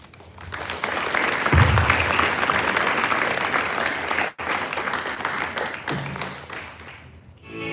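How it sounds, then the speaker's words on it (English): Loud, sustained applause from a school audience at a sixth form leadership summit, with a brief cut midway, then the clapping resumes before fading out near the end. "can we once again give them a huge round of applause?"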